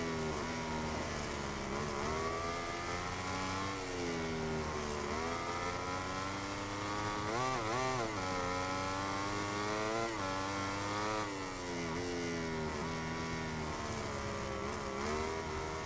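A continuous high-revving motorcycle engine drone in the racing video game MotoGP 17, with shifting pitch, rising and falling as gears change, steady and loud throughout.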